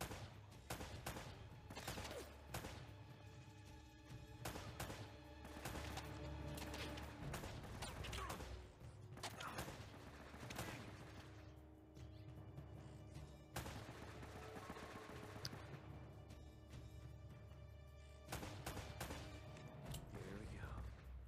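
Rapid bursts of gunfire from the video game Uncharted: Drake's Fortune fill the whole stretch, loud and dense with machine-gun volleys and impacts, barely pausing.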